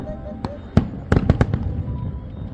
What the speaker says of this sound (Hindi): कितनी सुंदर आतिशबाजी हो रही है अयोध्या दीपोत्सव की